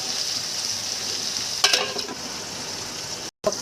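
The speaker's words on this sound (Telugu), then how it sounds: "బెండకాయ ముక్కలు వేసుకున్న తర్వాత బాగా అంతా వేపుకొని" Okra pieces fry in a pan with a steady close hiss of sizzling oil, a brief louder crackle of stirring midway, and a short drop-out just before the end.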